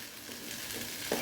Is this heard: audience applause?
no